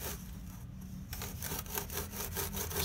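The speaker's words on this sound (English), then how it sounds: "Sawing this stuff is just much easier than trying to use a utility knife." A hand saw cuts fibrous refractory board while a forge is being relined, giving close, rhythmic rasping strokes that repeat steadily after a short pause.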